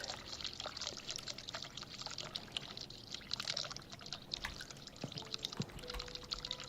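A hot water tap runs steadily in The Cat Lady, giving a continuous pouring rush with scattered drips and splashes. It stays close and fairly quiet throughout, with no talk over it.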